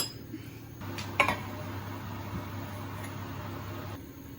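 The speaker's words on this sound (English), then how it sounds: "So what we're going to do now is get our tin out of the oven" Metal Yorkshire pudding tin clinks once as it comes out of a hot oven, over a steady oven fan hum that cuts off partway through.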